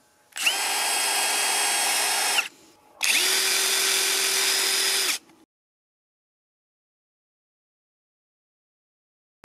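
A Parkside Performance 12V brushless cordless impact wrench whirs in two high-pitched bursts of about two seconds each, followed by silence.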